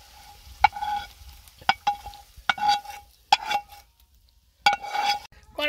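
Masala paste frying in oil in a pan for a chicken chap, heard as a run of short scraping stirs with bursts of sizzle between near-quiet pauses, close and fairly clear.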